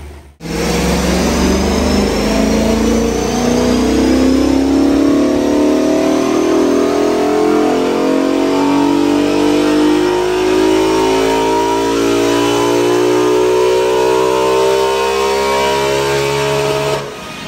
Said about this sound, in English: So now the car appears to be running quite nicely, but it's definitely down on power.